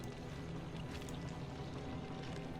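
Plants are watered in the Disney Dreamlight Valley video game, a steady, soft watery splashing wash that runs unbroken for a couple of seconds with no voices.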